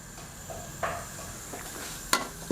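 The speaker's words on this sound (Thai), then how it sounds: "นำกระเทียมที่เราเตรียมไว้มาเจียวเลยครับ" Garlic frying in oil in a pan, a soft steady sizzle with a few scrapes and light clinks of stirring, close and quiet.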